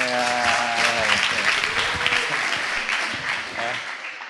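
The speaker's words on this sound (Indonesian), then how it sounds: "Tepuk tangan buat Liam." Audience applause at a student leadership training session, a dense steady wash of clapping filling the whole stretch, with a voice talking over it near the start.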